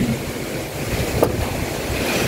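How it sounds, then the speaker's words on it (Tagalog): Strong storm wind drives rain in a continuous, loud roar of rushing noise, with gusty swells and no voices. "Okay lang po sana yung ulan eh. Wag lang ganitong hangin, nakakatakot."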